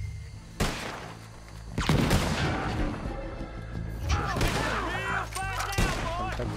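Gunshots in Red Dead Redemption 2 crack out as several sharp, loud reports spread across a busy game soundscape, with intermittent voices and other effects in between.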